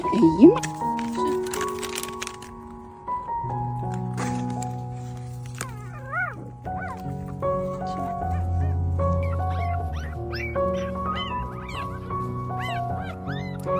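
Stray puppies whimper and yip in high, wavering cries, several overlapping, while a person talks nearby over them.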